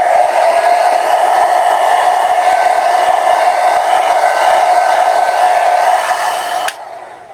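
Hair dryer blowing on a wet watercolor paint layer of a tulip painting, a loud steady whirring hum close by that holds evenly and then switches off near the end, leaving quiet; no speech.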